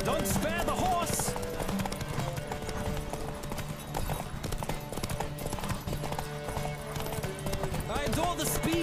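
Rapid, steady hoofbeats of a galloping horse in The Witcher video game clatter continuously, with a whinny and voices shouting over the pounding rhythm.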